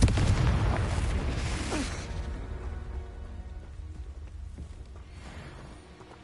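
Confringo spell blasts in the video game Hogwarts Legacy: a loud booming explosion up front that rumbles and decays, followed by smaller crackling bursts and debris fading out.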